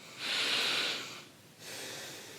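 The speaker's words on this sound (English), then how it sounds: "let's have a sniff" Two close, hissing nasal sniffs at a glass of Dragon's Milk Tales of Gold beer, the first longer and stronger, the second softer, alone without talk.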